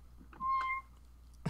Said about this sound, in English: Press the meow button.